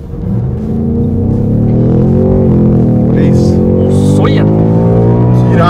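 A Ford Mustang Mach 1 V8 roars close and loud while accelerating hard from a launch, its pitch climbing steadily with a shift partway through, as someone talks excitedly over the engine.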